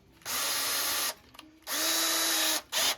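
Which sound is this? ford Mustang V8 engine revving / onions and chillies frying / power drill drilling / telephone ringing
power drill drilling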